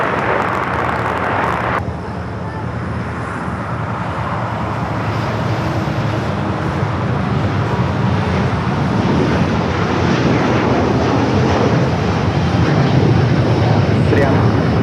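A heavy Boeing 787 departs from runway 25 left at LAX, its jet engines producing a broad, continuous roar that builds in low rumble as it rolls, with voices talking over it.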